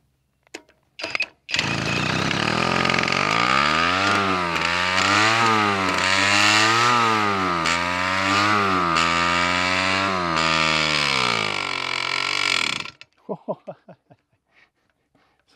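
An 18cc two-stroke diesel moped engine with variable compression runs for about eleven seconds, loud and near, its buzzing pitch wavering up and down as it surges, then cuts off, leaving a few faint clicks.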